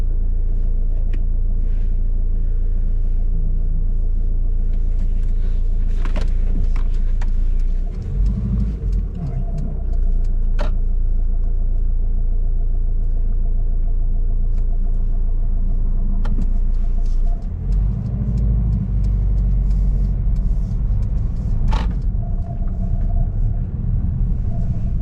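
Car engine idling and rumbling steadily at low speed while a learner driver reverses to parallel park behind a vehicle on a UK street, with faint interior clicks and shifts over the continuous hum.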